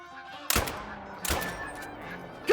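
Geese honk during a goose hunt in Call of the Wild, with sharp loud shots cutting through the calls, a few honks and bird cries in between, and a sudden loud burst at the very end.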